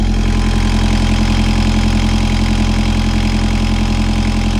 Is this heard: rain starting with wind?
no